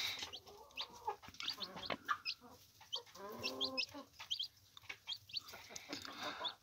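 A Gurk hen brooding her chicks clucks in soft, repeated bursts nearby, joined by high, thin peeping calls scattered throughout, with faint background noise.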